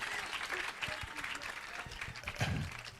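A church congregation applauds during a service, with dense, moderate clapping and voices mixed into it.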